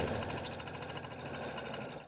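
A sewing machine stitches the seams of a fabric tissue cover in a steady, fast mechanical whir with rapid needle ticking, close and continuous, slowing slightly at the end.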